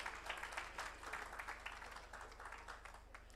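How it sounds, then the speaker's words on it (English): An audience at a one-day workshop in a hotel in Ahmedabad claps steadily, a faint, distant patter of many hands that carries on throughout. "A big hand of applause."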